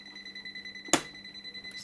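A TOOLTOP ET32 breaker finder emits a thin, high electronic beep pulsing in rapid, regular bursts, with a single sharp click partway through; fairly faint and alone.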